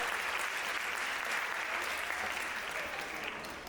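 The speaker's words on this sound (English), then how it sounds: "Give a big applause" Sustained applause from an annual day audience after a student presentation, dense and steady throughout, easing slightly at the end.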